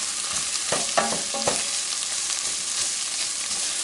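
Onions caramelizing with a bay leaf are stirred in a pot for meatless French onion soup, a steady close sizzle with a few scraping spoon strokes near the start, then continuous frying hiss alone.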